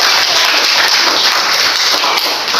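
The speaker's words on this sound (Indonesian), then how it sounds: "beri tepuk tangan dulu teman kalian yang membaca" Classroom applause for a student who has just read aloud, a dense burst of clapping from many hands, close and fairly loud, lasting the whole moment.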